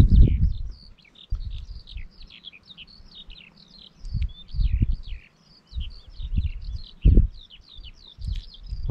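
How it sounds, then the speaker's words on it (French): Birds sing and chirp at dawn over open meadows, a busy chorus of short high twittering calls repeating throughout, with low rumbling bursts of wind or handling noise underneath. "on entend maintenant les oiseaux qui se mettent à chanter, à gazouiller"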